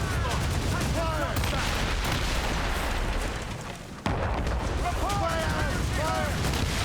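Ship cannons firing in Assassin's Creed Rogue, a dense roll of booming shots under shouted commands and battle din, loud throughout with a short dip before the barrage resumes.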